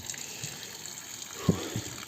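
Water running from an outdoor tap in Yellowknife, northern Canada, into a container, a steady faint gush with a brief louder splash midway, alone without talk.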